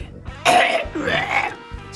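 A single harsh cough or throat clearing bursts out, loud and close, followed by a rougher second effort before it fades.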